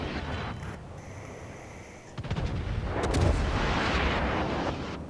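Naval gunfire in the warship battle game World of Warships: a deep rumbling salvo of booms builds and sustains over the final seconds, loud and dense, with no talking.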